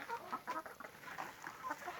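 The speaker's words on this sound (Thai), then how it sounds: "เอ้าไก่ตัวนึงออกคอก" Laying hens cluck in short, repeated bursts near their coop on a small egg farm. The clucks are close and fairly loud, with no talking.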